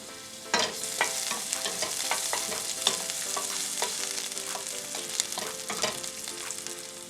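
Onions sizzle steadily in hot oil in a pan for braised tofu and vegetables, a dense continuous crackle broken by several sharp clicks and scrapes of stirring, close and fairly loud, with no voices.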